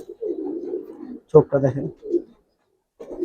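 Palla line Giribaz pigeons in a loft give low, throaty coos up close, first alone and then beneath someone talking.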